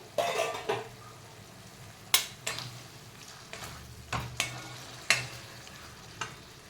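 Potatoes for sabudana khichdi stirred in a pan: sharp spoon scrapes and knocks against the metal every second or so over a soft steady sizzle, close and clear without speech.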